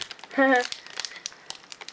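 A Pokemon booster pack wrapper is crinkled and torn open, with a burst of plastic crackling and then scattered small rustles, while people talk nearby.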